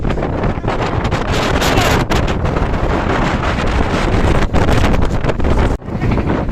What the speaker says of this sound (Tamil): இப்போ நம்ம எடுத்தோமா அந்த காற்று கிளம்புது.